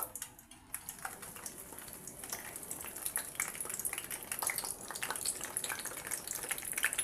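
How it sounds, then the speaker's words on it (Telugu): Eggplants for gutti vankaya curry frying in a generous amount of oil in a pan, a steady, close sizzle and crackle that builds slightly louder over the span, with no talking. "వీటిని మూత పెట్టేసుకొని బాగా ఫ్రై చేసుకోండి"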